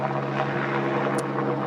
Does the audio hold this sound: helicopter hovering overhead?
yes